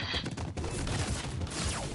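Rapid crackling bursts of bottle rockets going off in a video game, a dense fusillade of pops and whooshes filling the two seconds at steady loudness.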